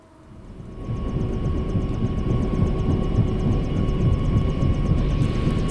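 A helicopter landing on an oil rig, its engine and rotor swelling up within the first second into a loud, steady rumbling drone with a rapid beating pulse, no voices present.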